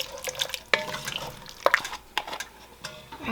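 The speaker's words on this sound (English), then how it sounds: "You do want to make sure you keep stirring this so it doesn't scorch on the bottom" Milk being stirred in a pot on the stove, a few soft scraping and sloshing strokes with faint liquid swirl, close and fairly quiet, with no talking.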